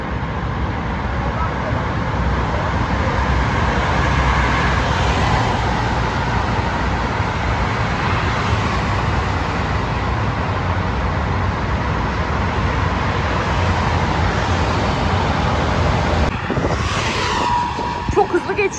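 Cars speed through a newly built road tunnel, making a continuous, loud roar of tyres and engines that echoes off the walls, with people talking inside a moving vehicle.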